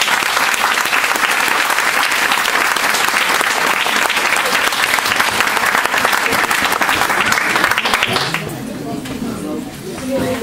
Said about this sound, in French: donc je vais vous demander d'applaudir.